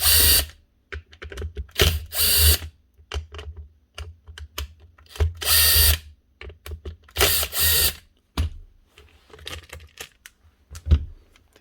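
A power drill works the screws out of the base of an old Makita 9046 half sheet sander, loud close bursts of whirring and rattling repeating in short runs with brief pauses between.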